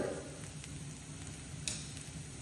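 Onions and garlic sauté in a pan, a quiet, steady sizzle with faint stirring scrapes and a small pop near the end, no voices.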